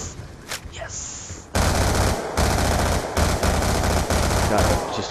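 Sustained automatic gunfire in the video game Black Ops 2 Zombies Origins, a loud continuous rattle of rapid shots starting suddenly and running with brief breaks, after a quieter opening.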